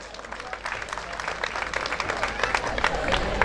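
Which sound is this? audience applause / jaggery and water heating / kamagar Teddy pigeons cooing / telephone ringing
audience applause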